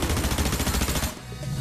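Rapid automatic fire from a Surge Fire SMG in a video game, a loud continuous burst of close gunshots lasting about a second before cutting off into quieter game ambience.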